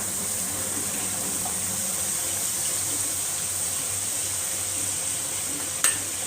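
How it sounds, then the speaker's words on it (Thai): Rice with Chinese sausage stir-frying in a pan, a steady, close hiss of sizzling oil running throughout with one brief scrape near the end. "ดี๋ยวพ่อผัดแป๊บเดียวก็เสร็จแล้ว"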